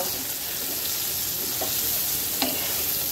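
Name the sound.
soybean chunks frying in oil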